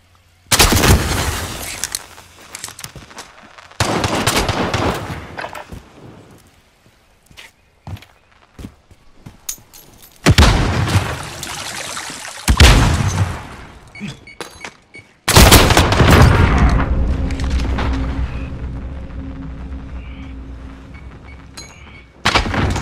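Gunfire in Call of Duty: Modern Warfare comes in several loud bursts of rapid shots and booms, separated by quieter stretches with footsteps, ending in a long, sustained barrage.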